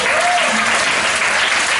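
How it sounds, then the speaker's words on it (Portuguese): Audience at a puppet theatre show inspired by the opera Carmen breaks into loud, dense applause, continuous and close throughout the short burst, with a faint voice line over the clapping. "Ah, palmas pra ele."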